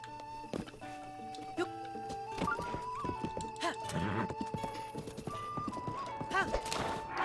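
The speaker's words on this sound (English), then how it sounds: "I think Zelda's horse is the best horse in the game that you can equip stuff to." A horse in Zelda: Breath of the Wild clip-clops along and whinnies, the hoofbeats uneven under soft game music, with a voice talking over it.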